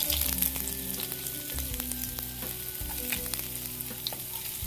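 Finely chopped garlic and ginger fry in hot oil, giving a continuous close sizzle and crackle with occasional stirring clinks and scrapes.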